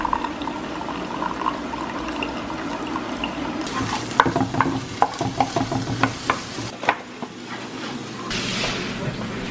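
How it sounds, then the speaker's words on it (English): An omelet with mushrooms and bacon cooks in a pan, giving a steady soft sizzle with a run of clicking stirs and scrapes in the middle, fairly close and moderate in level. "I'm making a little omelet with mushrooms and bacon"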